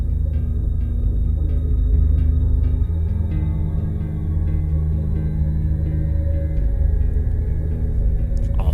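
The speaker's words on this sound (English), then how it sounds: "you have the bass guitar playing the main riff" A bass guitar plays the main riff of a rock track, a loud, sustained low line with shifting sliding notes, heard alone and steady throughout.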